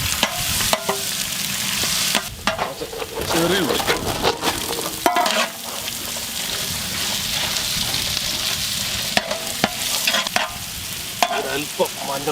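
Small onions frying with curry leaves, green chillies, ginger and garlic in a pan for a jackfruit and beef village dish, a loud continuous sizzle broken by repeated scraping stirs of a utensil.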